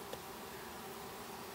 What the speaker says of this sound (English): Here we got a couple baby bees being born right now.